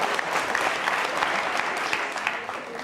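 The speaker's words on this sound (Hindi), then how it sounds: "तालियां बजाइए इस असीम स्नेह के लिए" An audience at a school quiz show claps loudly and steadily, a thick continuous round of applause that stays even from start to finish.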